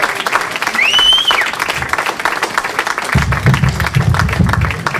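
Comedy-club audience applause for comedian Randy Levy, a loud continuous wash of clapping with whoops and crowd noise, and someone speaking over it in the second half.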